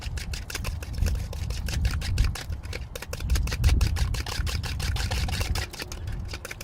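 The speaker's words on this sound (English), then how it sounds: "Whisk it all up again." A whisk beating boilie bait mix of eggs and flavouring in a bowl, rapid close-up clicking and tapping strokes repeated in a quick, busy rhythm throughout, with no voices.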